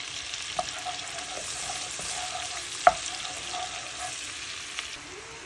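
Garlic and flour frying in a pan for children's noodles, a soft steady sizzle with occasional utensil scrapes and one sharp clink, no talking.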